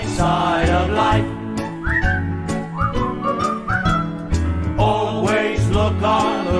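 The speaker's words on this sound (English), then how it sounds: "Just purse your lips and whistle, that's the thing." Someone whistles a cheerful tune in short rising phrases over a loud accompanying song with instruments, the whistled notes clear and fairly close between sung lines.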